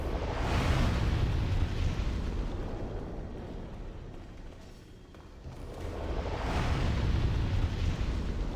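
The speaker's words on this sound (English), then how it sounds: "Explode." A spell-cast explosion in a fantasy video game roars out as a sustained rumbling blast, swelling twice with a quieter dip in between, dense low-end noise filling the whole stretch with no talk over it.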